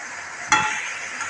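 Potatoes tipped into a pan of frying chicken curry and stirred, one brief scraping splash followed by a steady soft sizzle, close by and alone.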